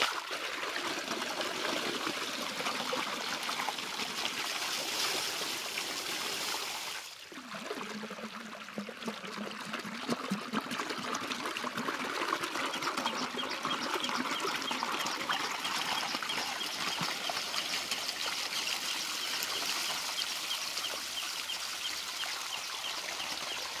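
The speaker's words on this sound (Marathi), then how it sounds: "प्रेशर आहे पाण्याला।" Water flows out under pressure in a steady, even rush with a dip about a third of the way through and faint birdsong behind it, with no one speaking.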